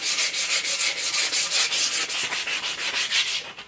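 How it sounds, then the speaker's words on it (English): Sandpaper of 100 grit scrubbing varnish off a wooden axe handle in steady back-and-forth strokes, about a dozen rhythmic rasping passes, close and fairly loud with no talking. "I'm just gonna start with some 100 grit sandpaper."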